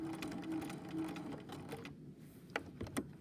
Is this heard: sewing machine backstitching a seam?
yes